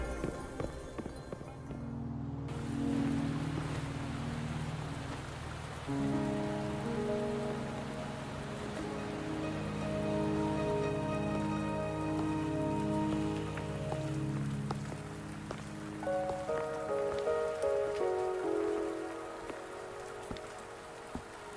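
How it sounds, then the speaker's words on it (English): Steady rainfall pattering on surfaces in the Wuthering Waves video game, a constant wash of drops under soft layered game music, no voices. "Are you trapped here by the rain?"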